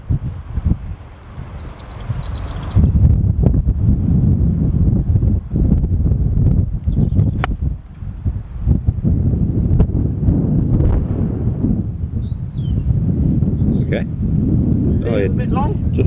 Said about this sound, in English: Quite a bit of wind out there today.